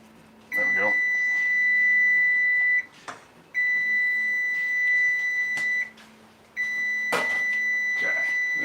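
An oven timer beeps in three long sustained tones separated by short gaps, clear and fairly loud in a home kitchen during a cookout of cornbread and beans.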